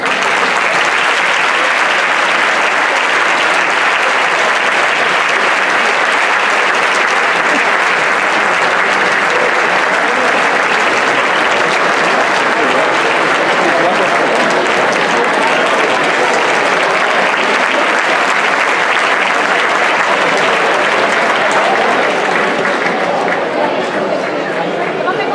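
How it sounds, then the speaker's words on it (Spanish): A crowd applauds a men's senior award winner at the Asturian handball gala held at the Universidad Laboral in Gijón: loud, dense, unbroken clapping filling the hall for over twenty seconds, with cheers mixed in and no talk. "Un aplauso para él."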